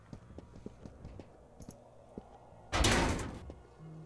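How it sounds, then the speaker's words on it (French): A welded back door in the video game Encased rattles and clunks when someone tries to open it. Soft knocks lead up to a loud, sudden metallic burst near the end that then fades. "Porte arrière soudée. Là, je dois pouvoir l'ouvrir."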